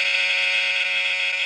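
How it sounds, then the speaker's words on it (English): A counter buzzer pressed as a pretend fire alarm gives one steady, loud electronic buzz that holds unbroken, bright and harsh, for the whole moment with nothing else heard. "when I press this counter buzzer, we'll pretend that it's the alarm and get out"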